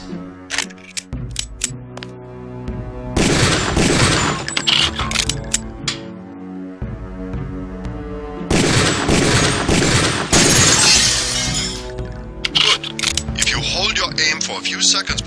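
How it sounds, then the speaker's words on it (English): Pistol shots ring out at training targets in Deus Ex, sharp bursts in clusters separated by pauses, mixed with a calm narrating voice and game ambience. "Release the first target and take a few shots with one of the pistols until it is destroyed."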